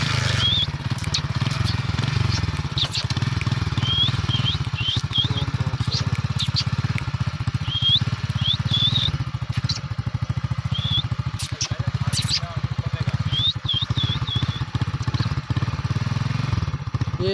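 A motorcycle engine chugs steadily and loudly for the whole stretch, a rough low rumble at a constant pace, while a parrot's high chirps come through now and then.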